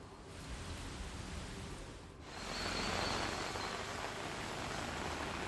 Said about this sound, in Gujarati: ગ્રામ્ય વિસ્તારમાં ક્યાંક ધોધમાર તો ક્યાંક ધીમી ધારનો વરસાદ પડી રહ્યો છે।